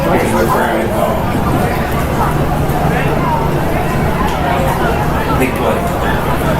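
Crowd noise at a high school football game between the Hayti Indians and Portageville Bulldogs: a loud, continuous roar and babble of spectators, close and steady, with a commentator talking over it.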